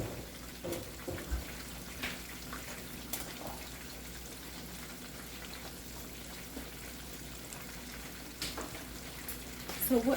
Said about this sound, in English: Okay, so hopefully this continues to just fry, starts to get hard.